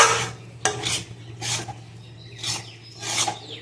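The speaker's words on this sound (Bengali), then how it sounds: "দিয়ে দেবো 1/2 চামচের মতো ঘি, দিয়ে ভালো করে একটু নাড়াচাড়া করে নেব।" A spoon works ghee through paneer sandesh mixture in a pan, giving several close scraping, rasping strokes in an uneven rhythm with short gaps between them.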